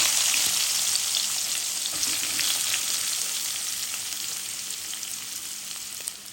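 Egg, onion, tomato and green chilli frying together in a pan make a bright, close, continuous sizzle that slowly fades a little over several seconds, with light stirring and no talk.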